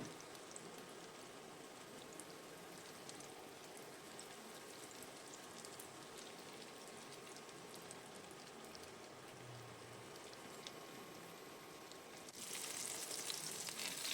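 Chicken breast pieces frying in a pan for street-style chicken chow mein, a dense continuous sizzle and crackle throughout that swells louder near the end, no speech.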